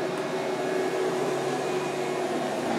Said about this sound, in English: For the booster fan, it is when you plug it in, it turns on.